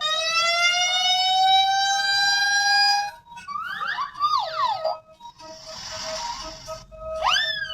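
An electronic toy fire truck siren wails in a long rising tone, then switches to rapid chirping yelps and a burst of static-like noise, close and loud.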